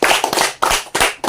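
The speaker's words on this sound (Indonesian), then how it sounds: "mari kita beri tepuk tangan untuk kita masing-masing" A small classroom group of teachers claps together in a few loud, close bursts of applause, each swelling and fading, with no talk over it.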